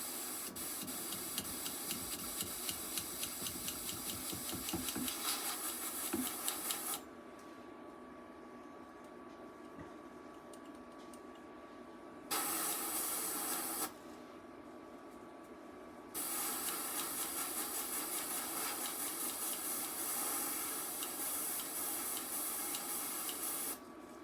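An airbrush spraying paint gives a steady close hiss in long bursts, with short pauses between sprays and a sputtering start.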